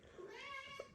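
A house cat gives a single drawn-out meow lasting about a second, close by and fairly quiet, its tone rising then falling, alone in a quiet indoor room.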